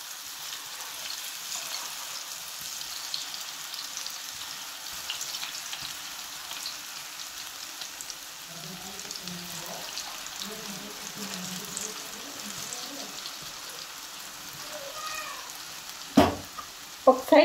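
Battered onion pakoda pieces are dropped one by one into hot oil, giving a soft, steady bubbling sizzle with a quiet voice in the middle and a few sharp knocks near the end.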